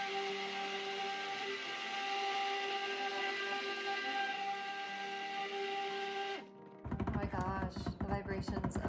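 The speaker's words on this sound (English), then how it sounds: "The vibrations of this immersion blender are making my fingers all weird." Immersion blender whirring steadily through cold-process lavender and sandalwood soap batter, a close, even motor drone that cuts off sharply near the end, followed by clattering handling noise.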